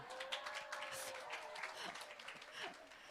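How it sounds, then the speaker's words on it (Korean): Sparse applause from a small audience at an evening business lecture, scattered claps spread over the room with faint voices and a quiet tone in the background. "박수를 받으려고 한 건 아닌데요"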